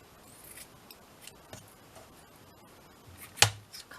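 A single close snip of scissors cutting a small piece of cheesecloth for a toilet roll tube craft, preceded by quiet rustling handling sounds.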